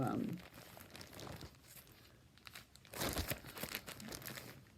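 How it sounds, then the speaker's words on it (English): Crinkling plastic bag rustles in bursts, loudest at the start and again near the end, with soft handling noise between. "that one's just in a plastic bag."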